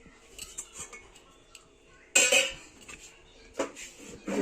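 A metal utensil presses and scrapes through boiled potato in a pot or bowl, giving scattered soft clinks and knocks with a couple of sharper metallic scrapes, close and fairly quiet, with no voices.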